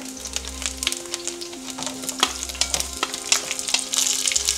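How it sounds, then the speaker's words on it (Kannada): Onions sizzle and fry in a hot pan with oil, giving a steady crackling hiss broken by frequent stirring scrapes, close and clear, with no one talking. "ಇದಾಗಿದ್ದ ನಂತರ ನಾವು ಈರುಳ್ಳಿ ಹಾಕೊಂಡ್ಬಿಡೋಣ ಇದಕ್ಕೆ."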